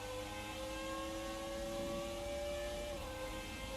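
A steady, droning Mercedes Ilmor engine note with a rising whine from a classic Formula 1 car in the F1 2019 video game at Interlagos holds throughout, loud and unbroken, like a racing car passing at speed.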